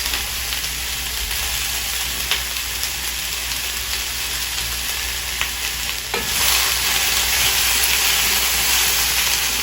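Italian sausage sizzles steadily as it fries in a hot pan, a loud, continuous hiss with small crackles and the occasional stir, rising slightly louder near the end.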